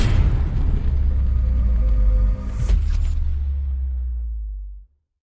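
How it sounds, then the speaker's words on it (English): A fireball explosion in Minecraft gives a loud, deep boom with heavy rumbling, a sharp crackle partway through, then a long low tail that fades over several seconds. "nothing could disturb this moment except for a loud fiery ball explosion"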